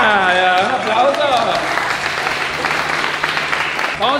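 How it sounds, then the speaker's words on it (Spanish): A crowd breaks into applause on cue, a steady wash of clapping with an excited voice calling out over the start before the clapping carries on alone. "¡Un aplauso!"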